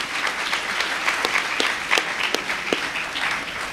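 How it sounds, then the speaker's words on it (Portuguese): An audience at a panel on the judiciary and the media breaks into applause: steady, dense clapping from a sizable crowd, fairly loud and close, with a few sharper individual claps standing out and no talk over it. "Uma salva de palmas"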